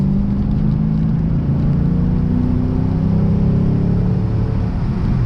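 Lexus RC F V8 engine pulling on the road, a loud continuous low rumble whose harmonics climb steadily as the car accelerates, heard alone without voices.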